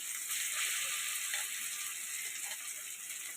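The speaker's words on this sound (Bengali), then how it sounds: "বরবটির মিহি পেস্টটা তেলের মধ্যে দিয়ে দিচ্ছি" Fine yard-long bean paste dropped into hot mustard oil in a wok sizzles loudly and steadily, a dense crackling hiss that continues without pause and with no talking.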